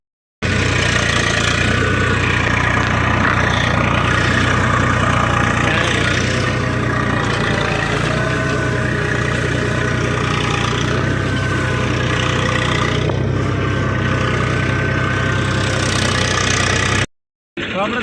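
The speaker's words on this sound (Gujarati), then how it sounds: "તો ચાલો જોઈ લો અમારું ટ્રેક્ટર કેવું ચાલે" A farm tractor engine running steadily nearby, a loud continuous mechanical drone with vibration that holds throughout before cutting out briefly near the end.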